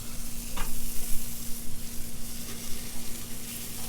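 A marinated tri-tip steak is flipped on a Mesa 325 grill and sizzles steadily and close, with a constant hiss, a low electrical hum, and faint pulsing crackle.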